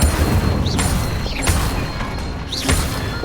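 A burst of fire from the Incendio spell in Hogwarts Legacy, booming and crackling in loud repeated whooshes amid busy spell-combat noise, with no talk over it.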